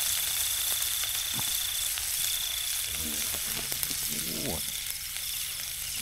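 Rat meat stir-roasting with pounded curry paste in an outdoor rural kitchen, giving a steady close sizzle and hiss throughout, with scraping stirs and a brief voice over it.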